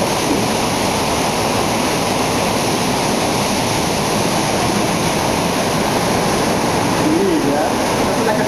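Río Plata cascade, a waterfall at the end of a climb, roaring as a loud, close, unbroken wash of falling water that fills the whole stretch, with no talk over it.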